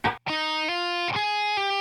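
Distorted electric guitar plays a short, high-register riff from a song: a few sustained notes with quick changes between them, loud and close with no voices.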